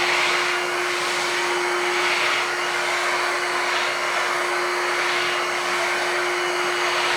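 A Shark HydroVac MessMaster WD161 corded vacuum mop runs steadily on a floor, giving a constant loud whirring hum with a steady motor whine and faint rolling swishes, with no talk.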